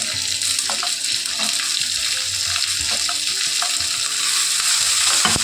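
Sliced onion frying in a pan for a masala curry gives a steady close sizzle and hiss, with occasional soft clinks and stirring scrapes.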